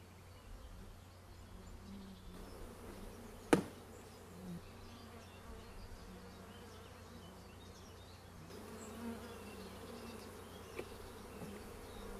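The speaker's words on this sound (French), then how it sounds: "Il remet donc le reste des abeilles dans la ruche." Honeybees in a beekeeper's hive, with the bees put back into the hive while swarms are being made up, give a faint, steady buzzing drone throughout, with one sharp tap near the start.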